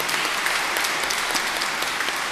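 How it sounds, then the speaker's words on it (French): A church congregation applauds during Mass, a steady, dense patter of many hands clapping at moderate volume with no talk over it. "je pense que ça vaut la peine d'applaudir bien fort"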